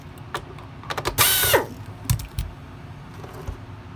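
Phillips screws come out of a Shark NV500 vacuum, heard as close, quick ratcheting clicks from the screwdriver with one brief whirring burst in the middle.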